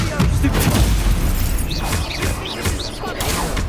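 Loud booming spell blasts from the Confringo fire spell in the Hogwarts Legacy video game, a dense rumbling crash with whooshing bursts, heard under shouting voices.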